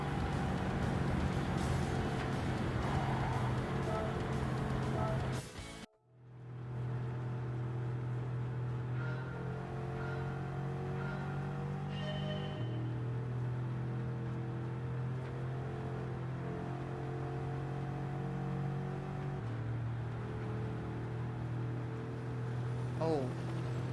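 Race car engines droning in Gran Turismo 7, including a McLaren and a Ford, a sustained steady motor hum with shifting pitch steps and a brief cut in the middle, with talking over it.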